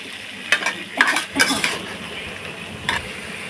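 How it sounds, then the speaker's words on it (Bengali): Potatoes fry in hot oil in a pan with a continuous sizzle, broken by several sharp clinks and scrapes of a spoon stirring against the metal, up close with no talking. "তারপরে তেলের মধ্যে আলুগুলোকে ভালোভাবে ভেজে নেব"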